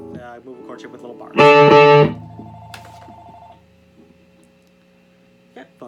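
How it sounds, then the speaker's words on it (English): A telephone rings loudly in a room where a guitar lesson on a song is under way, a bright burst followed by a lingering tone and faint ambient hum. "Okay, phone's ringing apparently, so hopefully that doesn't go in the video too much"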